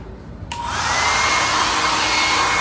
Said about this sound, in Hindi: मुझे हेयर ड्रायर की जरूरत पड़ती ही है